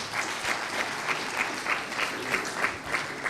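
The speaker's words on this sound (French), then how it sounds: "Mérite vos applaudissements" Rhythmic group clapping at an association's general assembly for a member about to read a poem, the audience beating hands together in a regular, unified pulse, moderately distant and fairly soft.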